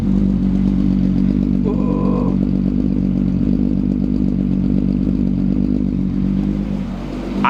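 A car engine just back together after electrical repairs runs loud and steady at idle close by, a continuous low rumble with a brief rattle and a lone voice exclaiming over it.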